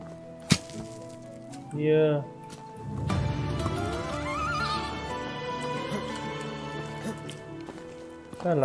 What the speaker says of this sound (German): Da lacht das Pferd